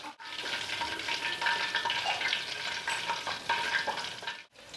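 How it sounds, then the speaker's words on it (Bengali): Coated chicken leg pieces deep-fry in oil for a second round, a close, continuous bubbling sizzle with light crackles throughout. "আমরা বাকিগুলো এইভাবে ভেজে নিচ্ছি আরেকবার করে।"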